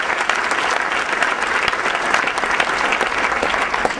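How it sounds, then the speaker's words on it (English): Steady, dense applause fills a political campaign event for a Democratic candidate for governor, continuous and full throughout without pauses. "Give them a round of applause."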